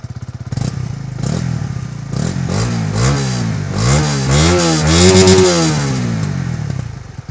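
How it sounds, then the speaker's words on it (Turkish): A Honda CB 125 R motorcycle exhaust revs up close in a series of rising and falling throttle blips that build to a sustained, strained high-rev peak before easing off, with no talking. "motosikletin egzoz sesini ben çok beğendim"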